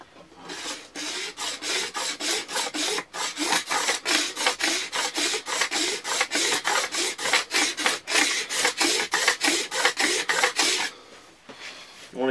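A knife blade held straight on, scraping down the wooden stave of a bow: close, rhythmic rasping strokes repeated quickly and evenly for about ten seconds before stopping.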